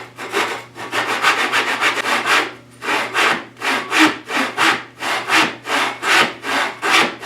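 A hand saw cuts a blind dado in wood with close, rhythmic back-and-forth rasping strokes, a fast run of short strokes followed by a short pause and then steadier, evenly spaced strokes.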